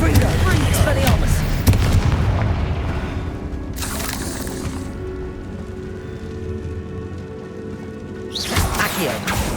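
Spells cast in combat in Hogwarts Legacy on PS5, with Accio, Incendio, Confringo and Expelliarmus: a string of deep booming blasts and impacts over rumbling game noise, with a sharp burst near the start and another near the end.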